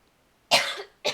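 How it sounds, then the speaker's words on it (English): A person coughs twice, close and sharp, with a longer raspy first cough and a short second one after a brief gap, against an otherwise quiet background. "Okay, now I'm coughing."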